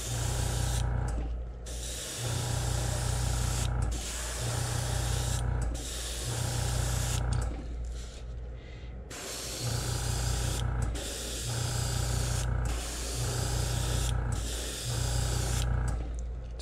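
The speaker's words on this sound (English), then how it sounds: "Just putting just a little tint of that pink on there." Airbrush spraying pink paint onto a fishing lure to make it bright, hissing in steady bursts of about two seconds separated by short pauses, close and loud with no talking.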